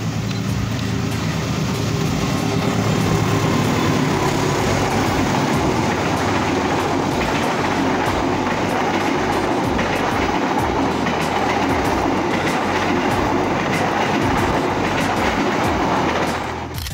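A KA 35 Argo Parahyangan passenger train rolls past close by at Malabar with steady rumbling and rhythmic clickety-clack of wheels on rail joints, loud throughout before fading at the very end.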